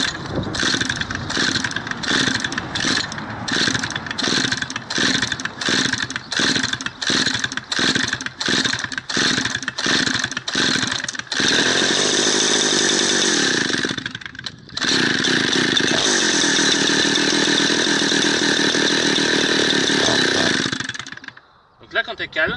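A chainsaw is pull-started with the choke engaged: a series of rapid rhythmic cord pulls, then the engine catches and runs loud and close, dips briefly, roars again, and finally cuts out.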